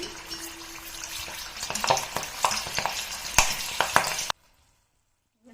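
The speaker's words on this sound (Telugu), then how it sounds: "పచ్చిమిర్చి డైరెక్ట్గా వేయకుండా ఇదిగోండి ఇలా వేయించుకోవాలి" Green chillies frying in hot oil for a samosa filling, a steady loud sizzle with scattered crackles and utensil taps, then an abrupt cut to near silence.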